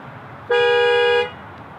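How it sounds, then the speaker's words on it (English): A single loud car horn of a 2021 Honda Accord Sport Special Edition, set off by the key fob panic button, blares steadily for under a second, close by, then cuts off against quiet outdoor ambience. "That's a loud horn for a small vehicle"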